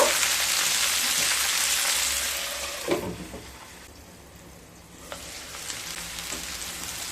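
Steady, dense sizzle of mixed vegetables and beans frying in hot oil, heard up close, with a few stirring scrapes. It fades briefly midway, then swells again, with no voices.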